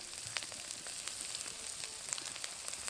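Ginger and garlic paste frying among browned onions, for a crab curry: a steady, dense crackling sizzle with quick pops scattered over it, close and even throughout, no voices.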